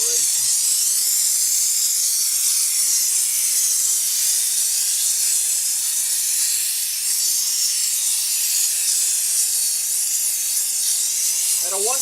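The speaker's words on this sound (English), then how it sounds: "the steam that comes out of here, of course, is 200 degrees plus" A steam cleaner blasts 200-degree-plus steam onto a motorcycle wheel, a loud, steady, unbroken hiss that holds at close range for the whole stretch, with a faint knock near the end.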